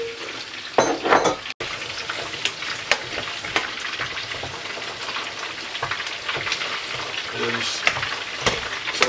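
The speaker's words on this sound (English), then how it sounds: "So we're frying the last of the chicken when it's a nice rich brown colour." Chicken pieces sizzle and spatter steadily in a hot pan, frying to a rich brown for jollof rice, with occasional stirring clatter and crackling pops close by.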